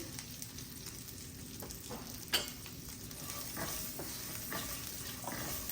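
Asafoetida sizzles in hot oil in a pan for lemon rice, a soft steady frying hiss with a few light stirring scrapes and one brief sharper knock, close and quiet with no voices.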